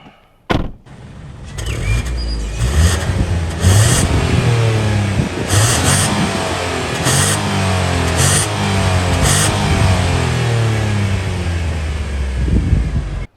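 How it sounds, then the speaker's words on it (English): A Renault Clio's 3-cylinder 1-liter engine starts with a sharp thump and then idles with a steady hum, broken by a series of brief throttle blips that rise and fall in pitch, heard close up with no talking. "let me do a quick sound check, see what this 3-cylinder 1-liter engine sounds like."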